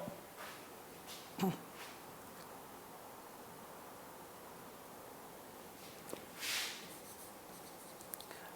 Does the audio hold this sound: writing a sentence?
yes